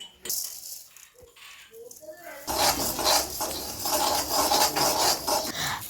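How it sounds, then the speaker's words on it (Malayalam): A mixer grinder jar grinds roasted flattened rice (aval). A voice and a few clinks come first, then a loud, dense rattling whir starts and continues steadily. "മിക്സിയുടെ ജാറിലോട്ട് ഇട്ടിട്ട് അത് പൊടിച്ചെടുക്കുവാണേ"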